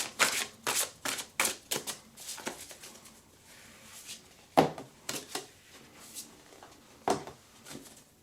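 Tarot cards are shuffled and flicked down in a quick series of crisp, close riffles and slaps, then a few scattered taps after pauses.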